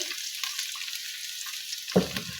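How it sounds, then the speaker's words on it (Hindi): Cauliflower florets (gobhi) frying in a pan give off a soft, continuous hiss of sizzling oil, with a short clatter of stirring near the end and no talking. "ये देखें, गोभी को मैंने फ्राई कर लिया है।"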